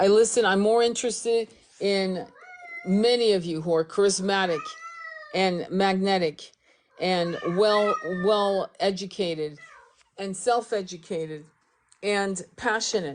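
A pet cat lets out several drawn-out, rising meows that overlap and fall between steady, close speech from a person talking throughout.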